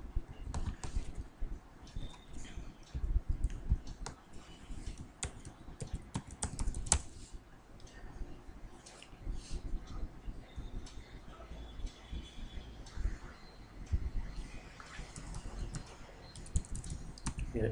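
Quiet, steady clicking of a computer keyboard as someone types a user ID and password, keystrokes arriving in uneven bursts with brief pauses between them.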